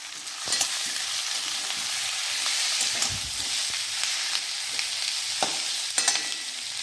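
Capsicum frying with potatoes and onions in oil sizzles steadily up close, broken by several sharp spoon scrapes and knocks against the pan; no one speaks.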